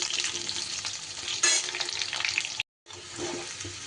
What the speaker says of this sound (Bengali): 2 মিনিটের মতো এটা আমি মিডিয়াম ফ্লেমে শুধু আলু আর গাঁটি কচুটা ভেজে নিলাম